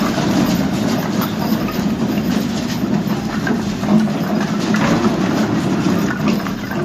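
A loaded truck delivering chopped hornbeam firewood pulls slowly away, its steady heavy engine rumble and rolling road noise continuous and fairly loud, with no voices over it.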